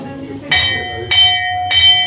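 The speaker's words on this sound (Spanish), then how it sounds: "Toca la campana, Ignacio, para que veáis que funcionaba." An old bell from Spanish Guinea rings in a conference hall, with three bright metallic strikes about half a second apart, each ringing on between hits, close and loud.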